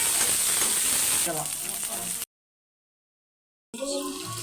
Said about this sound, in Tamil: வெங்காயம் தக்காளி எல்லாத்தையும் போட்டு வணக்கிக்கலாம்